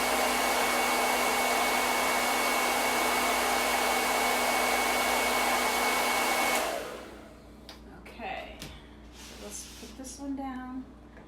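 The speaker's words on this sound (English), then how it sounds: "And then I'm going to dry that so I can just pick it up and lay it over there." A handheld dryer blows steadily and loudly over chalk paste on a stencil transfer for several seconds, then cuts off, leaving faint handling sounds and someone talking briefly.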